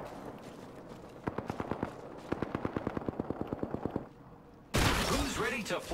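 Rapid automatic gunfire in the video game Apex Legends, two quick bursts of evenly spaced shots at moderate distance, followed by a sudden loud whooshing rush of noise.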